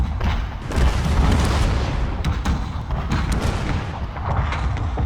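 Explosive artillery shot in Total War: Warhammer smacks into the ground repeatedly from a zoomed-out distance, a dense rolling series of booming, concussive impacts with no talking.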